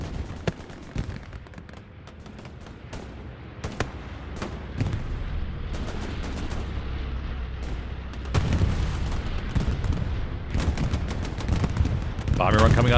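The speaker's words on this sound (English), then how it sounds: "Bombing run coming on through" Bombing run in Hell Let Loose, a dense barrage of rolling explosions and booms with scattered gunfire, swelling louder midway and near the end, with someone talking over it.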